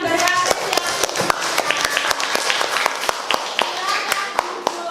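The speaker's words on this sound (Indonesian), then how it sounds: "Tepuk tangan diberi apresiasi." A classroom group claps in scattered, uneven bursts of sharp hand claps, steady and close for several seconds, with faint voices underneath.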